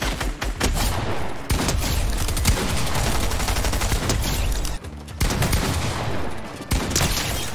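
Rapid gunfire from the video game Fortnite, played with a Cronus Zen device, comes in dense, loud bursts of overlapping shots with a short pause near the middle.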